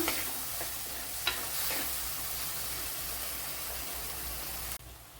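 Spice paste for Vankada fish curry sizzles steadily in a pan while being stirred, a constant hissing fry with occasional scraping clicks, close and moderately loud, cutting off abruptly near the end.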